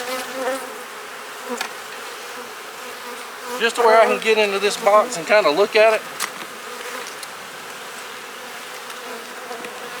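Honeybees hum steadily around a hive while being shaken off a frame, a dense continuous buzz throughout, with someone talking over it for a few seconds in the middle.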